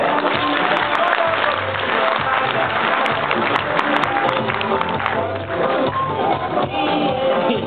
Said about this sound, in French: Merci encore une fois de l'applaudir, s'il vous plaît.